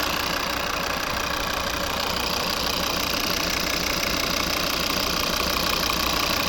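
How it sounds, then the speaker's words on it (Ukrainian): A loud, steady engine rumble drones on without a break, dense and close: a 2011 Volvo V50 2.0 D3 diesel idling right beside the listener. "Класно працює двигун."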